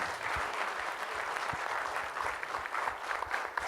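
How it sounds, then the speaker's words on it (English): Audience applause at a corporate leadership summit, a steady wash of clapping from a sizable crowd that holds at an even level for the whole stretch. "Can we have a huge round of applause?"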